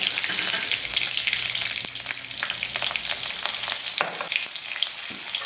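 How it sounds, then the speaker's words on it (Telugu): Green chillies and cumin seeds sizzling in hot oil, a steady loud crackling fry with bright spitting pops throughout and occasional stirring scrapes, no talk. "ఆయిల్ హీట్ ఎక్కింది. ఇప్పుడు ఇవి వేయాలి. పచ్చిమిర్చి, జీలకర్ర."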